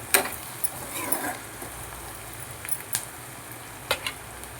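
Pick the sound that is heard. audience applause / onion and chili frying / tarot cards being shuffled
onion and chili frying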